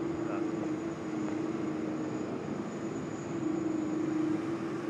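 An airliner landing on runway 16 right at Sydney Airport produces a steady, distant jet roar with a faint sustained tone, continuous throughout.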